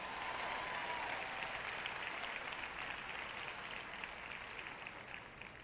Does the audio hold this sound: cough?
no